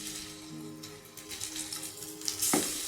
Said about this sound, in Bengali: এইভাবে কর্নফ্লাওয়ারে চুবিয়ে চুবিয়ে এখন ভেজে নেব।